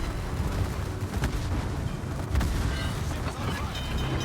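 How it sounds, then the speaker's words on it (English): Secondary guns on a battleship in the World of Warships video game fire in a steady, dense barrage of overlapping booms and thuds, loud and continuous throughout, with no clear gaps between shots. "And my secondaries keep firing"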